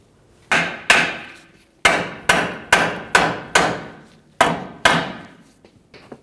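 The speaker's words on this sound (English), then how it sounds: "use your hammer while you still have pressure on this and give the control arm a couple loving bonks" A hammer strikes a steel lower control arm of a 2003-2011 Mercury Grand Marquis about ten times in uneven pairs and singles, each sharp clanging hit ringing briefly before the next, close and loud.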